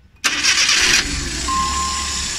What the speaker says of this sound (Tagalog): Ngayon, papaandarin natin yung ating makina.